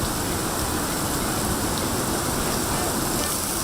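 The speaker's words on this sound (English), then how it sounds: "That's a lot of rain, really fast." Heavy rain pours down at a drag strip, a loud, dense and unbroken roar of water that fills every moment without a break.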